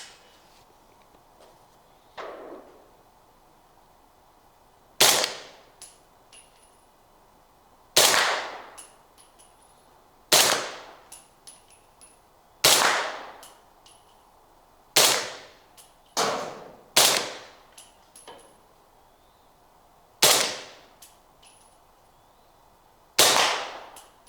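A custom 300 Blackout rifle fires 220-grain subsonic rounds outdoors, about nine sharp suppressed reports spaced a couple of seconds apart, each a crisp crack with a short clattering tail from the action and impact.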